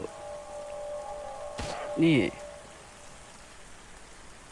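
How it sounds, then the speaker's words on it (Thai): Steady rain patters as a broad hiss throughout in the video game Into the Dead 2, with a short spoken word and a brief chime-like burst partway through. "ฝนยังตกอยู่"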